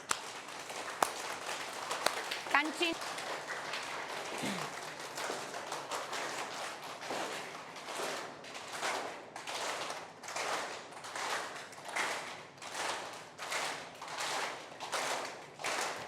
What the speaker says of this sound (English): Stretch your fingers, clapping technique, eyes closed and start clapping with the same speed.